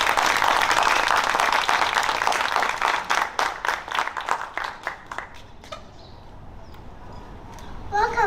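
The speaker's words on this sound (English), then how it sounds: "Let's give them a big clap to start with." Audience at a Year 2 class assembly clapping, a thick burst of applause that thins into scattered individual claps and fades out near the end.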